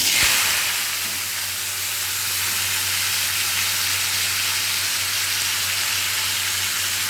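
Mango pieces are dropped into spices frying in hot oil, setting off a loud sizzle that bursts at once and then holds as a steady, close hiss.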